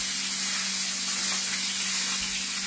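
A roast sears in olive oil with a steady, close sizzling hiss that stays even throughout, with no talk.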